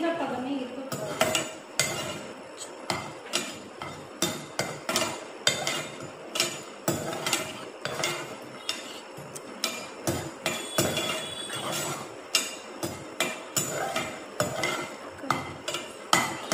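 Garlic being fried and stirred in a pan for masala powder, heard as a steady run of close metallic clinks and scrapes from a spoon against the pan, repeating rhythmically throughout.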